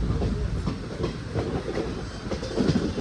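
A passenger train rolls along on the way from Kollam to Madurai, a steady loud rumble with rhythmic wheel clatter heard from inside the carriage, with no talk.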